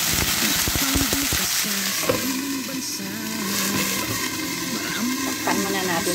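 Broccoli fries and splatters in a hot pan with garlic, a loud continuous sizzle with crackling pops close up, while a voice talks over it in steady, tonal bursts.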